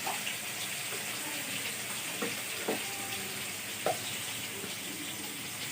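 Spices frying in a pan with a hilsa fish head, a constant hissing sizzle with occasional stirring clinks and scrapes, close and even throughout.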